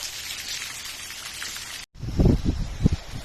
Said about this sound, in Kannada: ಮಳೆ ಸ್ವಲ್ಪ ಈಗ ಕಡಿಮೆ ಕಾಣ್ತಾ ಉಂಟು.